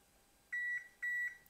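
A preheated oven gives two long, loud, steady electronic beeps in a row, close by, over a quiet room with no talking.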